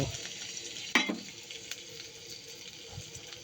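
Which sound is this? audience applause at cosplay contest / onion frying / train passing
onion frying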